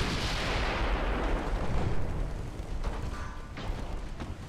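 Naval guns and torpedo launches in the warship battle game Ultimate Admiral: Dreadnoughts, a dense continuous rumble of distant cannon fire and booming blasts that swells early and then thins into scattered sharper shots.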